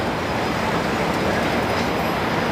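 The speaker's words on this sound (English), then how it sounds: "Oh, here comes a streetcar now." A Toronto streetcar passes along a city street near a subway station, giving a loud, continuous rail rumble with a faint squeal near the end.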